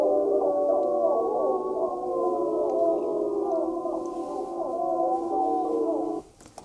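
A wolf pack howls in chorus, with several overlapping wavering tones rising and falling together in a continuous layered wail that ends abruptly.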